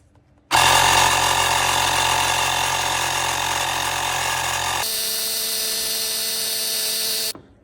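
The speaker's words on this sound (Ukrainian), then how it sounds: "тому я перевіряю ось таким звичайним компресором" A small ordinary air compressor runs close and loud for about seven seconds while testing the pressure of a home heating system's expansion tank. Its steady mechanical drone changes pitch partway through, then stops abruptly, with no talking.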